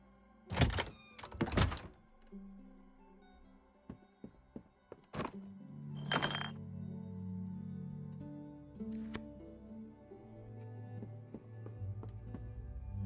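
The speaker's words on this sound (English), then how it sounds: "Turn the key in the lock and the door opens." A key turning in a lock and a door opening in the video game The Bookwalker: Thief of Tales. Two loud, close thunks come first, then a series of clicks and a heavier thump, with a low rumbling movement trailing off afterward.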